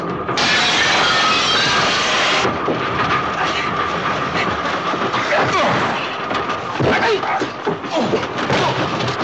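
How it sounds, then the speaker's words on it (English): Film soundtrack of a moving train, a steady loud rumble with clickety-clack rhythm, opening with a bright sustained train whistle for about two seconds before the rolling wheel noise carries on. "because the bullet went through the glass, I was able to have my whistle of the train"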